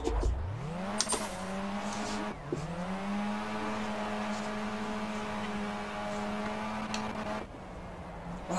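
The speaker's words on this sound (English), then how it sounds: "I like the sounds of this car. The motor sounds really good." A race car engine in rFactor holds a steady, rising tone, pausing for gear shifts between brief surges, with no one speaking.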